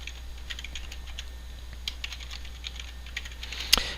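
Quick, light clicks of a password being typed on a computer keyboard, an irregular run of keystrokes close by with a sharper tap near the end, no talk.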